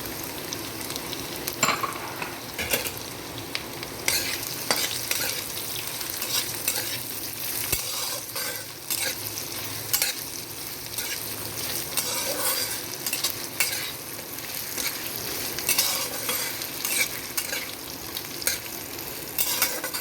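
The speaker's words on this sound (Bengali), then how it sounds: "প্রথমে আলুটা একটু ভাজা ভাজা করে নেওয়া হবে" Potatoes and grated coconut frying in oil in a pan for a banana flower curry, a continuous loud sizzle with repeated scraping stirs of a spatula against the metal, no speech.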